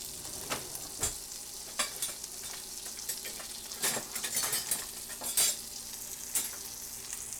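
Tilapia fillets fry in a pan with a continuous crackling sizzle, punctuated by scraping and tapping of a utensil against the pan at irregular intervals.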